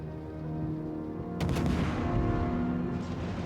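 In a naval video game, a Kagero destroyer's guns let out a sudden loud boom partway through, its heavy rumble rolling on against a low steady background hum.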